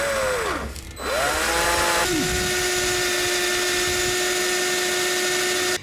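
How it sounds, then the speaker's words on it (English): A power drill spins up with a rising whine and then bores steadily through the metal cross member of a VW T6 van in a loud, sustained high grind, close by with no talk. "this hole that we've drilled through the cross member"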